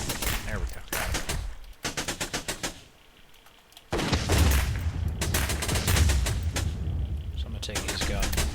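Bursts of gunfire crackle in the shooter game Rogue Planet 2, with rapid volleys of shots and brief pauses between them, while someone talks over much of the action.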